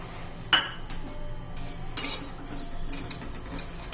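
Fennel seeds dropping into a pan for dry roasting, a few sharp metallic clinks and rattles as they hit the metal, with quiet scraping between them and no talk.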